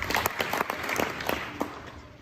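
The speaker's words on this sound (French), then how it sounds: "Est-ce qu'on peut applaudir ou acclamer pour la parole du Seigneur?" Congregation applauding during a Sunday church service, a steady burst of many hands clapping that fades out over about two seconds.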